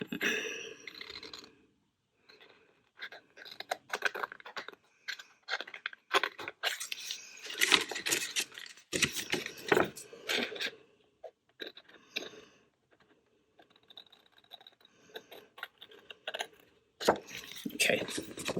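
Scissors snip and crunch through cardstock pieces along a score line, irregular close cuts and paper rustling in bursts separated by short pauses.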